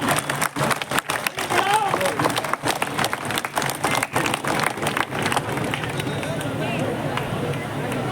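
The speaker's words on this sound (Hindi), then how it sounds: "जोरदार तालियां एक बार बजाइएगा सभी" A crowd claps loudly and steadily at the unveiling of a statue of Shaheed Bhagat Singh in Malviya Nagar, with dense, slightly uneven applause and voices murmuring underneath throughout.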